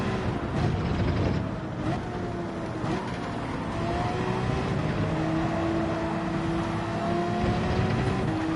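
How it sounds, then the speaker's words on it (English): A Porsche race car engine in Gran Turismo 7 drones and revs steadily, pitch rising and dropping through gear changes, loud and continuous with no speech. "I need to rev out the Porsche."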